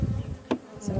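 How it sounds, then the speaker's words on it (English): Honeybees buzz steadily around an open apiary hive in Ireland, a close continuous drone. "the bees are busy"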